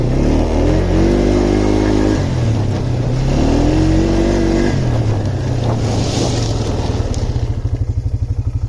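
Polaris Trailblazer ATV engine running close by, a loud steady idle with rising and falling revs that settles into a rapid, even chug toward the end.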